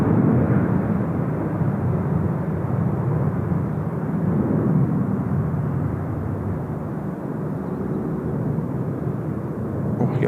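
A Korean Air airliner bound for Dubai makes a long takeoff roll at Incheon Airport, its engines a loud, steady, broad roar that holds for the whole stretch.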